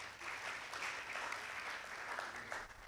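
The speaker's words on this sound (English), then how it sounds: "I think they deserve a better round of applause" An audience at a panel discussion gives the panelists a round of applause, a dense, steady patter of many hands that stays even throughout and tails off slightly at the end.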